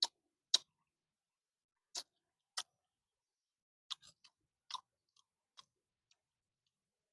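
Someone eats a chicken head close up, making sparse, crisp crunches and clicks in an irregular rhythm with quiet gaps between bites.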